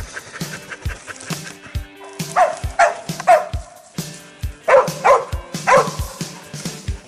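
Several dogs bark and yip repeatedly during a goat cull, sharp close barks in irregular bursts with whimpers between, along with a voice calling to them.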